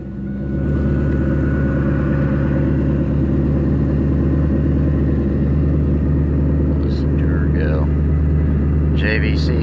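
A 2002 Chevrolet Camaro SS with a six-speed manual idles steadily and close by, a deep, even engine rumble that holds throughout, with faint higher noises near the end.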